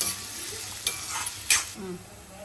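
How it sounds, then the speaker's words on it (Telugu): Green chillies and curry leaves fry in hot oil in a pan, a loud, constant crackling sizzle with a couple of sharp spatter bursts and light utensil scrapes, no talk. "రెండు పచ్చిమిర్చి వేసుకుందామండి కరివేపాకు బాగా ఏగాలండి"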